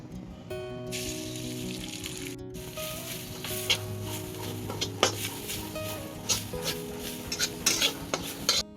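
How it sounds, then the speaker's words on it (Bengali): Grated coconut fries in mustard oil in a pan with a soft sizzle, punctuated by repeated scraping and clinking of a spatula stirring against the metal, over a faint steady background tone. "নারকেল কড়া নিয়ে নিয়েছি, এবার তেলের মধ্যে দিয়ে সামান্য ভেজে নেব।"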